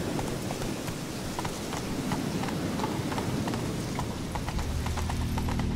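A horse in The Witcher 3: Wild Hunt gallops with a steady, rapid clip-clop of hooves on the ground, loud and continuous over a dense ambient game soundscape.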